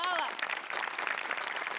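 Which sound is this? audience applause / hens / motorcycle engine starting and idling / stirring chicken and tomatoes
audience applause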